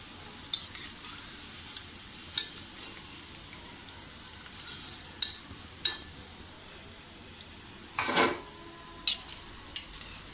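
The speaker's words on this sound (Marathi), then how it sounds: "मी आता हे एका भांड्यात काढून घेते." Fried batata vadas lifted from hot oil into a bowl: a faint background sizzle punctuated by sharp metallic clinks and scrapes of a utensil, with one louder rustling clatter midway.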